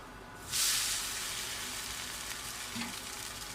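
A wheat dosa cooks uncovered on a pan with a steady, close frying sizzle that flares briefly near the start and then settles into an even hiss, with no voices.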